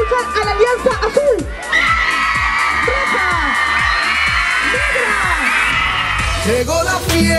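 A crowd at an anniversary celebration shouts and cheers loudly, with sustained whoops and yells rising into a dense roar that fills the space; a voice speaks over the noise at the start.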